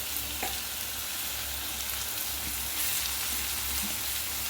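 Mustard seeds frying in hot oil for a mutton pappas curry, a dense continuous sizzle with a few faint stirring scrapes, close and unbroken by talk.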